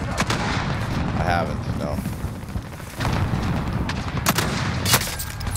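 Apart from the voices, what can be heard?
gunfire in Call of Duty Modern Warfare video game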